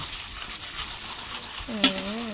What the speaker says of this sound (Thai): คลุกเคล้าจนส่วนผสมเข้ากันนะคะ